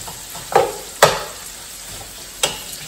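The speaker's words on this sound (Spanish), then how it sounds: "Aquí está guisándose bien sabrosito y huele." Pork ribs stew in green sauce in a pot on the stove, a low simmering hiss underneath while a utensil clinks and scrapes against the pot three times in sharp, close strokes.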